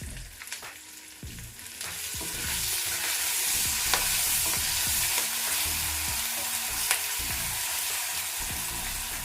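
Gongura rice with curry leaves and salt is stirred in a hot pan, a spoon scraping and mixing in repeated strokes over a continuous close sizzle.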